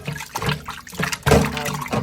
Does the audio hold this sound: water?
yes